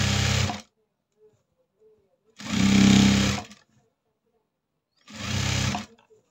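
A domestic sewing machine stitches a blouse neck seam in three separate bursts, each about half a second to a second long, with short silences in between.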